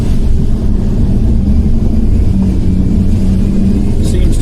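A stock Mini Cooper S R53 driving on the road, its supercharged engine giving a steady loud rumble with a faint pulsing drone and road noise throughout, with no speech.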